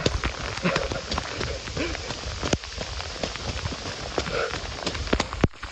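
Heavy rain pours down during a trail run, a dense, steady hiss of drops on surfaces mixed with rhythmic running footfalls and scattered sharp taps, close by, with a voice speaking at times.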